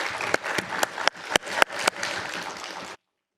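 An audience applauds at a tech conference talk on scaling for traffic surges, a dense sustained clapping from a sizable crowd lasting about three seconds before cutting off abruptly.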